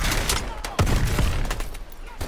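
Shotgun blasts in Call of Duty Advanced Warfare, several loud booming shots with sharp attacks set in dense battle noise, overlapping a voice talking.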